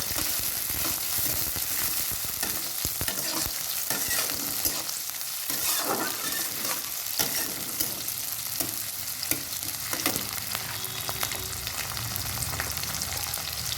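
Potatoes and tomatoes fry in a pan with onion, garlic and green chilli for a Bengali chorchori, a steady loud sizzle broken by repeated scraping stirs throughout, with no voices.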